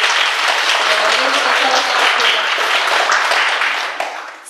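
A hall audience claps steadily for a village folklore ensemble at a rural autumn festival, dense sustained applause that fades slightly at the end.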